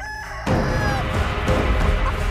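Chicken clucking and squawking up close, a sharp burst of agitated fowl calls starting partway in and continuing over scuffling and thumping noise.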